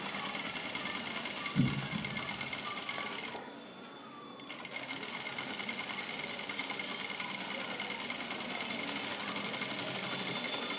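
A sewing machine stitches a tucked blouse neckline, running in a continuous close whirr that briefly slows and pauses before resuming at full speed.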